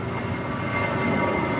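An airliner powers up for takeoff from runway 25 right at LAX, a steady, dense jet engine roar filling the whole stretch without a break, loud and constant, with no talking over it.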